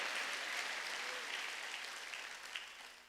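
A church congregation claps their hands at a Wednesday worship service, a dense continuous burst of applause that fades slightly over three seconds.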